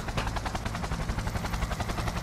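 Helicopter in the video game Cyberpunk 2077: a loud, continuous rotor roar with fast steady chopping pulses, heard alone and close for the whole stretch.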